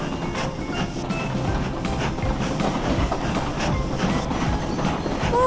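A cartoon train runs along its tracks with a steady, loud clickety-clack rumble of wheels that builds slightly toward the end, with no one talking.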